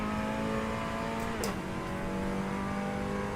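A race car engine drones steadily in a sim racing game such as Assetto Corsa, iRacing or rFactor 2, a constant close hum that dips briefly as the pitch drops mid-clip, then holds, with no talk.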